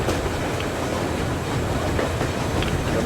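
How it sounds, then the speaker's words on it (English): Steady rumble and clatter of a train ride in the video game Metro Exodus, with continuous loud rail noise and faint rhythmic clickety-clack of wheels on track throughout. "they've kind of planned out a train ride"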